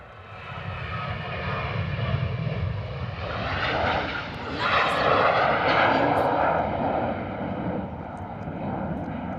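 A Jet2 Boeing 737 jet airliner roars down the runway on its takeoff roll at London Stansted Airport, a loud, sustained engine rumble and whine that swells and holds steady, with voices faintly under it.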